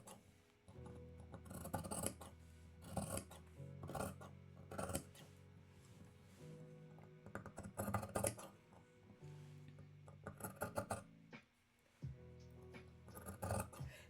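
Scissors snip through interfacing fabric for a denim neck tie, a series of crisp, close cutting strokes in irregular bursts with brief pauses between, quiet and without talk.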